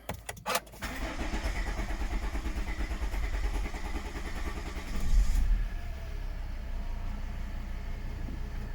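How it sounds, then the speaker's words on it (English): A 2012 Volvo XC60 engine cranks with a few quick turns, then catches and settles into a steady idle, rising briefly in a surge before evening out. "all we need to do now, start the car."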